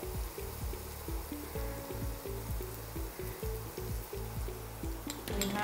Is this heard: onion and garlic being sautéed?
yes